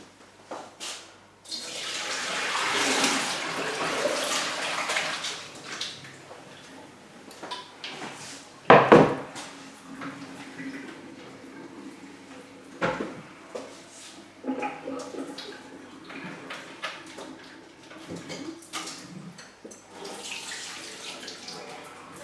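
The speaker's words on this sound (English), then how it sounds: "just pour the water into the sieve so that you catch the seitan" Water from seitan dough splashes and pours through a sieve into a sink in bursts, with clattering and handling noises in between and a sharp knock partway through.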